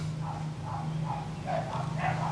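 Dogs barking repeatedly in the background, several short yaps spread across the moment under a steady low hum, fairly distant and moderate in level.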